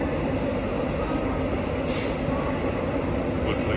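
A Class 91 electric locomotive, number 91105 in old Intercity livery, at Doncaster station, giving a steady loud rumble with a brief hissing burst partway through.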